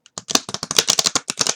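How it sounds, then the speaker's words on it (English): A deck of Lenormand cards is shuffled up close, giving a quick run of crisp, rapid riffling flicks and snaps lasting just over a second. "It's much easier to shuffle than I expected."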